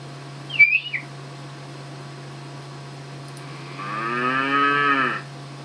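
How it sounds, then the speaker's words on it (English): Cartoonish cow moo sound effect from a point-and-click computer game, a single drawn-out lowing call near the end, preceded by a brief whistle-like blip over a steady low hum. "that same moo sound Humongous Entertainment used in all their games"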